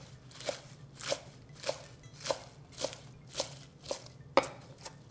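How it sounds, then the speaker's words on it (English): A knife roughly chops spring mix salad greens on a cutting board in steady, evenly spaced strokes, eight crisp close-up thuds about every half second, with nobody talking. "So you just want to roughly chop it."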